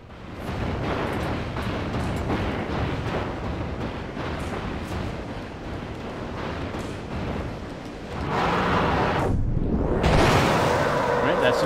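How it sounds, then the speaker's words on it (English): A long, roaring blast in the game Alone in the Dark (2008) fills the scene with dense, sustained rumbling that swells again louder near the end, with a voice talking over it. "All right, that's an explosion."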